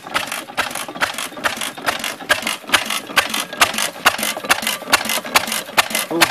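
Antique 1914 Friend stationary engine running slow on its throttle governor, a close, steady rapid chuffing and clattering rhythm of regular mechanical beats with no talking.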